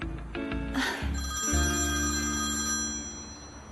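A telephone rings indoors with an electronic ringtone: layered, melodic tones sound close and steady for several seconds, with no voices over them.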